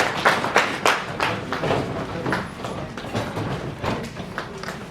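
Audience clapping at a university inaugural lecture, an uneven spread of individual hand claps with irregular, loose rhythm, moderately close in a hall.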